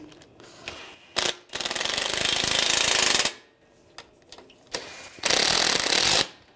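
Radiator bolts on a 2013-2016 Dodge Dart 2.4L are tightened with a power tool: two loud bursts of rapid rattling impact hammering, each about two seconds long, set off by short clicks and pauses, close up with no talk.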